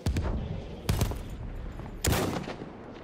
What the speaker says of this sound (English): Oh, he's firing at me again.